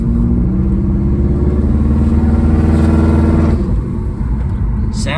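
A 2005 Subaru with a newly fitted turbocharger rounds a slow curve, its engine droning steadily and loudly from inside the car, then easing off near the end.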